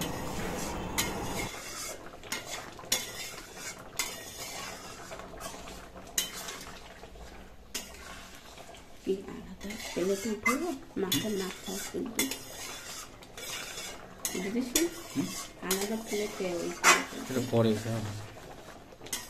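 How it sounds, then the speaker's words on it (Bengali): A pot of mung dal cooked with a large katla fish head is stirred with a metal spoon, giving repeated scraping and clinking against the pot, with a voice speaking at times. "এখন মা একটু আস্তে আস্তে এটাকে একটু ফাইনালি নাড়িয়ে চাড়িয়ে নিচ্ছে"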